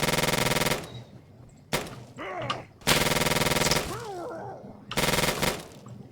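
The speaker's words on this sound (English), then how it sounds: "Well, at least the turrets still work." Automated turrets in the Fallout game fire rapid machine-gun bursts in three loud, sustained volleys separated by short pauses. Creature groans and snarls fill the gaps between the bursts.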